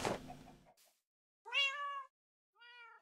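A cat meowing in the Minecraft 1.14 video game, two clear, distinct meows, the second softer, following a brief thump, with no talk.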